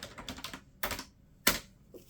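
Typing on a quieter computer keyboard, a close, soft patter of keystrokes in uneven bursts with a couple of sharper clacks, heard alone.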